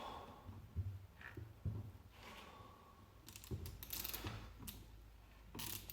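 A mini four-stroke engine's camshaft is turned slightly by hand, giving small clicking, ratcheting mechanical sounds in short irregular bursts, close and quiet, with no talk.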